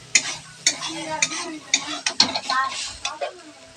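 Grated coconut fries in a pan as a metal spatula scrapes and taps against it in a quick, regular rhythm, ringing clinks over a light sizzle; close up, with no speech.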